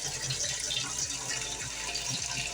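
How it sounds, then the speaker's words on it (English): Tap water pours steadily into a cooking pot as the pot fills for a Filipino beef bulalo soup. The stream makes a continuous close gushing splash with no talking. "I'm going to add some water"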